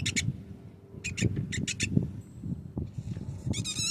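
Birds, ducks and swans gather close around, with bursts of chirps and squawks coming in quick clusters over low shuffling and paddling noises nearby.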